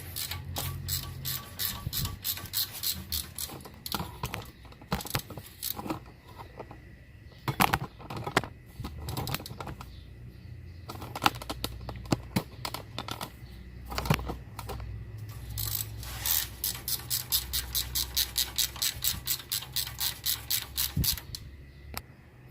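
A ratchet wrench works loose a tie-rod end bolt on a GMC Envoy/Chevrolet Trailblazer, giving bursts of rapid, close clicking separated by pauses and softer clanks of tools and metal parts.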